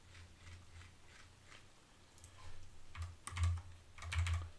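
Someone types on a computer keyboard during a morning programming session. The soft, irregular keystrokes start quiet and turn into louder, denser bursts toward the end.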